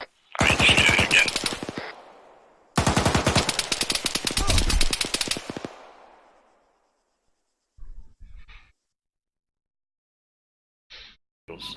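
Gunfire in the Arma 3 military game: two long, loud bursts of rapid automatic fire close together, then near silence broken by a couple of faint brief sounds.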